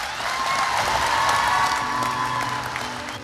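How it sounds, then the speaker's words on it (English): Graduating veterinary school classmates cheer and applaud at the close of a speech, a dense, sustained crowd roar of clapping with whoops that stays loud throughout and eases slightly at the end. "Austin's classmates cheer as he ends his speech"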